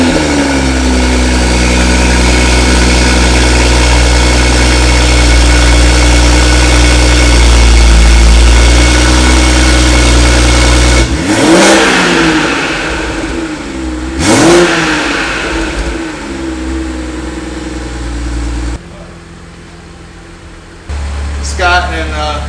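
A BMW F30 340i xDrive with a B58 engine and a new high-flow catted downpipe idles loudly with a steady deep drone, then gets two sharp rev blips that rise and fall before settling back to idle; no one speaks.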